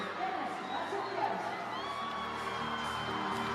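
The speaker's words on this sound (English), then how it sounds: "Huge roar for Junwon Cha for the People's Republic of Korea." A large arena crowd at a Cup of China figure skating men's short program roars and whoops for Korean skater Junwon Cha, a steady dense wall of cheering with scattered high shouts throughout.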